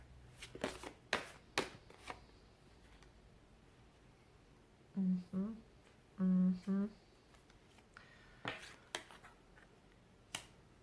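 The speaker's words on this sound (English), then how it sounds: "Let's get a couple more cards out here." Tarot cards being shuffled and drawn during a weekly reading: several sharp snapping flicks and quick rustles of card stock, close and fairly quiet, with two short bursts of a voice in between.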